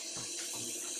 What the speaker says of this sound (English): I don't like having messy hands while I'm cooking, so I just rinse them.